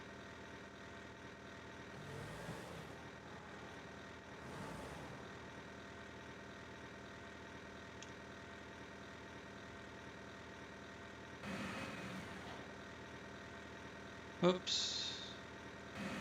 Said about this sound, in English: let's take the brake off and back out